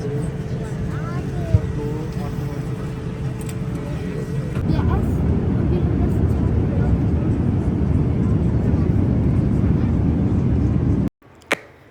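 A steady, loud airplane engine roar fills the passenger cabin, with people talking faintly underneath, then cuts off abruptly near the end.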